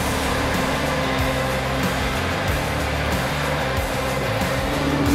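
A JCB 420S backhoe loader runs with a steady, loud, droning engine rumble and mechanical whine that holds constant throughout, with no talking.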